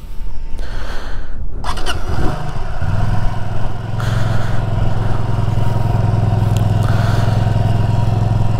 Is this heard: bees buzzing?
no